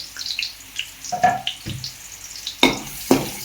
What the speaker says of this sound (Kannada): ಇವಾಗ ಎಣ್ಣೆ ಕಾದಿದೆ ಅದಕ್ಕೆ ಇವಾಗ ಒಂದು ಆನಿಯನ್ನ ಕಟ್ ಮಾಡಿ ಇಟ್ಕೊಂಡಿದ್ದೀನಿ ಅದನ್ನು ಹಾಕ್ಕೊಳ್ತಾ ಇದ್ದೀನಿ